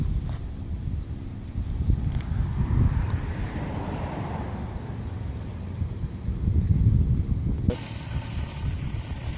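A Mi-T-M 14-inch surface cleaner running at 1800 psi on a concrete driveway makes a steady, loud rushing hiss with a low mechanical rumble, continuous throughout. The tone changes abruptly near the end.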